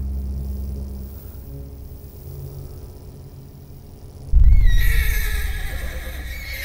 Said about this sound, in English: So the horse has whinnied.